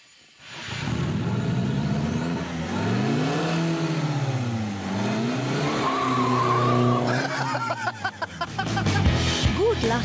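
Audi A3 with its rear exhaust silencer removed, given a sound check: engine revs rise and fall in loud sweeping surges, ending in rapid throttle blips and tyre-like squeals, with voices reacting.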